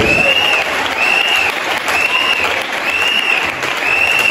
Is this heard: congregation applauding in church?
yes